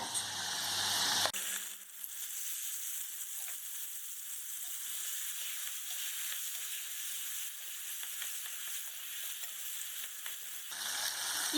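Jackfruit pieces sizzle gently in oil with creamy poppy seed paste over a low flame, a soft steady frying hiss with faint stirring scrapes, close up.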